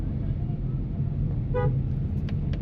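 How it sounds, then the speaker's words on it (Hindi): A single short horn toot from a 2026 Renault Duster manual sounds over a steady low engine rumble during a city drive, with a couple of faint higher beeps following. "हॉर्न भी मेरे को अच्छा लगा इसका"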